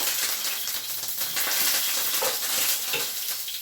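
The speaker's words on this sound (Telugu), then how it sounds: "ఉల్లిపాయ ముక్కలు మిర్చి వేసి వేయించుకున్నామండి" Onion pieces and green chilies frying in hot oil with cumin, mustard seeds and curry leaves, giving a dense, continuous sizzle with stirring scrapes, close and loud.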